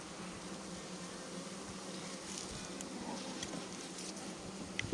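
Honey bees hum faintly and steadily around an open hive during an inspection, a soft continuous buzz with a brief knock right at the end.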